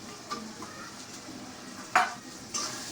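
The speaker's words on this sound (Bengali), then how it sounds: "যে টমেটো কুচি দিয়ে দিচ্ছি আর কাঁচামরিচ ফালি, গুঁড়া মাছ রান্না করতেছি।" Small fish frying in a pan with chopped tomato and sliced green chili, with a soft sizzle under scraping stirs and a couple of sharper utensil knocks against the pot.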